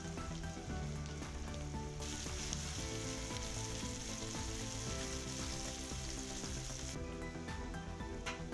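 Cloves, a star anise and a cinnamon stick sizzle and crackle in hot oil in a pan, with a continuous loud frying hiss and occasional stirring noises throughout.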